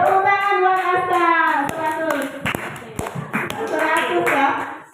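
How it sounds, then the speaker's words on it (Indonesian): Pupils in a classroom clap for a classmate, a brief burst of hand claps mixed with children's voices and chatter, loud and close. "Tepuk tangan buat Asta"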